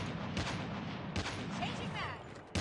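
Sniper shots in Call of Duty: Mobile during a women's esports match, a few sharp cracks over a dense, busy mix of game noise with faint commentary beneath.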